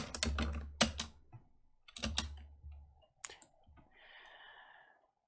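Computer keyboard typing in short bursts of quick clicks with pauses between them, close and fairly quiet, followed by a brief soft hum near the end.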